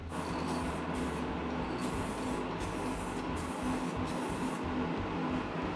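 A spray can lays thin coats of Nitorlack paint on a guitar body, giving a steady close hiss that swells slightly with each pass, with no voices.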